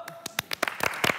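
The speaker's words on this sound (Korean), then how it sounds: "박수!" Scattered applause for the winner of a game on a variety show: a handful of separate, sharp claps from a small group, uneven at first, then quicker and louder toward the end.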